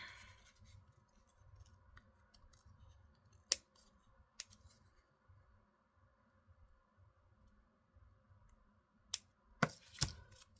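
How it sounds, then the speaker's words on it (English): Scissors snip a paper butterfly out of glued paper for a junk journal, giving a few sharp, close cuts spaced apart and then a quick cluster near the end over a low, steady background hum, with no talk. "we need to cut our butterfly out"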